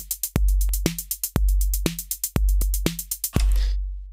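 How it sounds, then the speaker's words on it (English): Steady Roland TR-808 pattern of booming kick and snapping snare, now with quick ticking closed hi-hats added between them, driving along for about four seconds, clean and up front before a final hit rings out. "Now we can add in some hi-hats."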